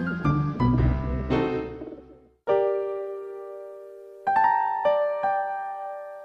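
Pigeons in a park in an animated fairytale, a few soft rounded coos first over a low rumble, then clear ringing tonal calls after a pause, close and moderately loud with no talk.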